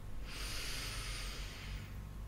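A slow inhale through the nose during a relaxation breathing exercise, one close, airy hiss lasting about a second and a half in a quiet room.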